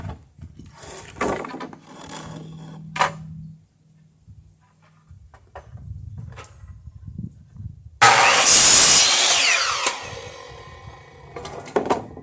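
Scrap wood being cut for firewood racks: intermittent rasping, rubbing strokes at first, then a loud, sustained burst of harsh cutting noise from about eight seconds onward, up close and with no talk.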